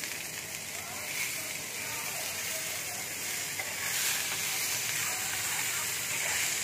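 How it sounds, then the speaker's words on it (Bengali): Onions dropped into hot oil on a tawa set up a dense, continuous hiss and crackle, steady and close, swelling slightly louder toward the end. "তেলটা দেখো গরম হয়ে গেছে, এবার আমি পেঁয়াজটা দিয়ে দিচ্ছি"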